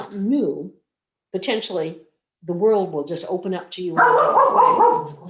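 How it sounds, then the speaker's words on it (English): A dog barks in the background of a veterans' talk-show broadcast, rough barks rising beneath and after a man's continuous speech near the end. "And I apologize for my dog barking."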